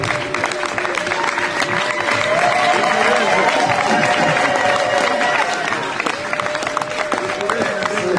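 Audience applause at a speech-filled celebration honouring a pastor's wife, a steady wash of clapping lasting throughout, with a sustained tonal hum and voices mixed in beneath it.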